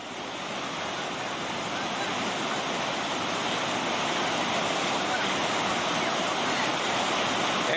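Whitewater pours over a rock at a pour-over rapid as a rafting crew bounces through, a loud, continuous, close roar of rushing water with no break.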